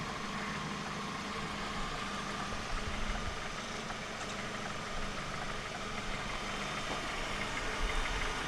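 A 2009 Ford Focus 2.0 Ghia petrol engine idles steadily just after start-up, a constant, even hum with faint mechanical ticking and no talk.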